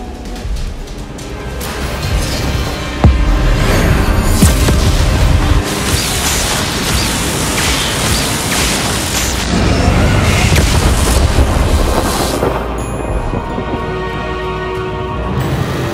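Booming magical explosions from the Bombarda spell erupt in Hogwarts Legacy, a dense run of loud blasts and rumbling impacts that continue for the whole stretch amid battle noise.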